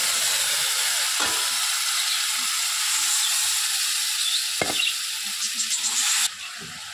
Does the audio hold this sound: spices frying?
yes